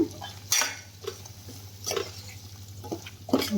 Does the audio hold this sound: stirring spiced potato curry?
yes